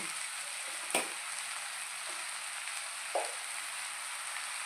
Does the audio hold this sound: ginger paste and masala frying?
yes